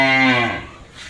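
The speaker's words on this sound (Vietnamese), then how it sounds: "Những con bò đặc nha nè." A single loud, close moo from a newly arrived cow at a cattle market, a long tonal bellow that falls in pitch and fades out after about half a second.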